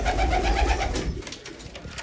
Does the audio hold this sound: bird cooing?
yes